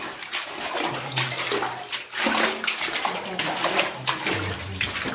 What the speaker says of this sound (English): lovely clay water again.